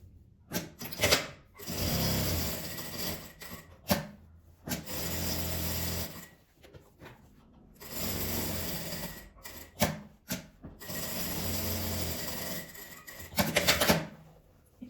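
A sewing machine topstitches fabric, running in several long bursts of steady whirring with short pauses between them.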